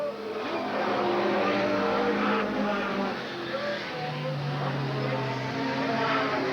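Race cars roar around the oval at Eugene Speedway in 1987, a continuous loud engine drone with pitch swells as cars pass, no talk over it.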